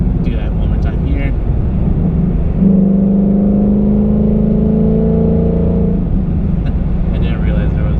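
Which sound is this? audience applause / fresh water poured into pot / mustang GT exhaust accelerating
mustang GT exhaust accelerating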